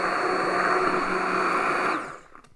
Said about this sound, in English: you can take an immersion blender